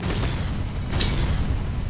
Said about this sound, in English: Yeah, there go the missiles.